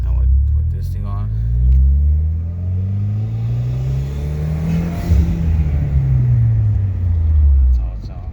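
A Mitsubishi Lancer X fitted with a K&N Typhoon intake revs up and down, a loud close engine roar with rising and falling pitch and strong intake growl, steady throughout the stretch.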